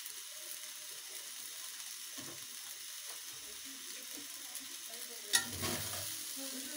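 Restaurant-style vegetable fried rice with sugar and pepper is stirred in a hot pan: a steady, soft sizzle runs throughout, with occasional scraping of the spoon and a sharper clatter near the end.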